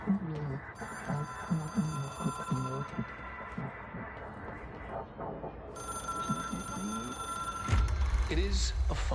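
Telephone bell ringing in repeated bursts, heard faintly behind ongoing talk.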